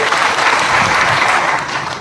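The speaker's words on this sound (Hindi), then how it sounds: "जोरदार ताली बजा के इनका स्वागत करिए।" Loud, dense clapping from a crowd of party workers at an SBSP political rally welcomes a party member, a short close burst that tapers slightly at the end.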